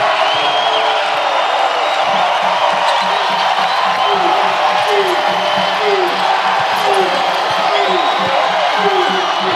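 A home basketball crowd in the University of Hawaii at Mānoa arena roars and whoops in a dense, steady wash of cheering, with a commentator's voice running over it throughout.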